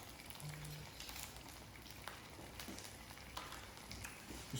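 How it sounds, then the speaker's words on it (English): Butter sizzles in a red-hot pan, a faint, even crackling hiss with scattered pops and no voice over it. "add a little bit of butter to the pan"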